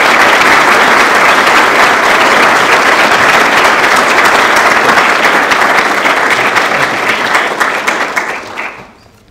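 Audience at a panel event on the US military in the Indo-Pacific applauding to welcome a guest speaker, a dense, loud burst of clapping that holds steady and then fades out near the end.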